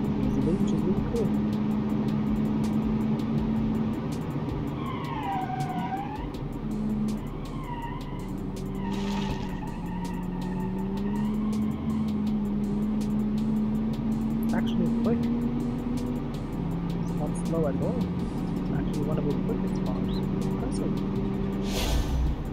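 Car engine revving during a driving test in a video game, a steady droning engine with rising and falling pitch sweeps and some tyre squeal, running continuously under a voice talking throughout.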